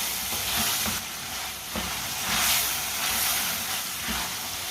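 Mixed vegetables fry on high heat while a spoon stirs them, making a continuous loud sizzle with soft scraping clicks scattered throughout.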